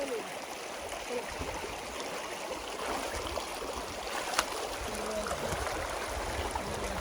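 A stream being waded across on a day trek between Kathmandu and Kulekhani near Markhu, its water rushing in a steady, close, broadband wash with a few small splashes.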